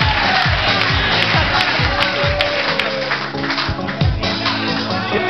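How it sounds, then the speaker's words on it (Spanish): An audience applauds and cheers for Sonia at a gathering; loud, crowded clapping and shouting fill the clip, with voices rising over the noise. "Un aplauso para Sonia."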